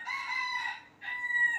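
A rooster crows loudly and close by in two drawn-out calls separated by a brief pause, with no voices present.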